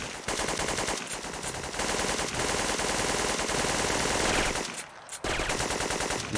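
Sustained automatic machine gun fire in Syphon Filter 2, set in the Colorado Mountains, dense rapid bursts filling the scene with a brief pause near the end before firing resumes.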